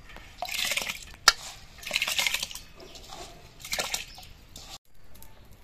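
Dry rice grains poured into a pot of water, bursts of rattling, splashing pours with a sharp knock midway and short pauses between the pours, close and fairly loud, with no talking.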